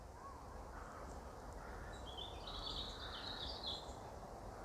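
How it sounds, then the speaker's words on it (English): Faint, distant birdsong in a quiet back garden, with thin chirps and twittering rising over a low steady background hush, most noticeable in the second half. "I just sit on my bench and listen to the birds."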